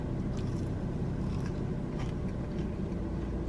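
Crunchy vegan fast-food falafel bitten and chewed inside a car, the crisp crunches close but partly buried under a steady rumble of engine or road noise throughout.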